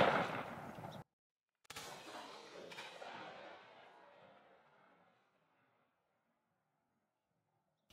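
A TriStar G2 Viper shotgun loaded with B&P lead shot fires one sharp outdoor blast, then a second report follows and its echo fades out over several seconds.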